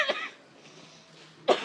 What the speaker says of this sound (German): Ich hab doch gehustet.